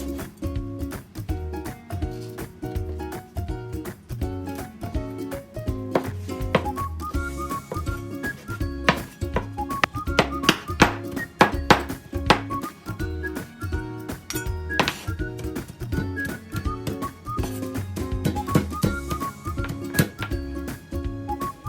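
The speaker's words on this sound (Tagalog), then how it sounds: "Chop the meat into small pieces and do this to all grilled pork meat" A knife chops grilled pork into small pieces on a board, a rapid, steady series of sharp close thunks running throughout over background music.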